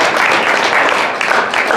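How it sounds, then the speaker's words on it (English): A meeting audience gives brief, steady applause, dense clapping at close range for under two seconds. "Can we please give an applause?"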